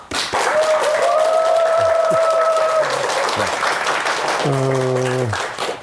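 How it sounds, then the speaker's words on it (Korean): Loud applause from an audience at the start of a lecture fills the room, with a foghorn-like tone sounding over the clapping. "큰 박수로 강연을 시작해 보도록 하겠습니다"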